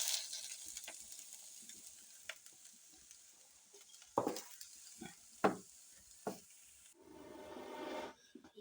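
Onions fry in a pot in a Kenyan village kitchen, a faint, quiet sizzle with scattered scrapes and taps of stirring, a few louder knocks midway and a brief rushing hiss near the end; no talking.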